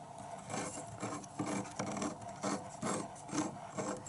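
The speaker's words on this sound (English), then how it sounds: "a fair bit of filing later, and it's still scraping" A hand file rasps in repeated strokes against a metal part of a vintage Pathé Baby 9.5mm film projector, each scrape rising and falling in a steady back-and-forth rhythm, close and fairly quiet.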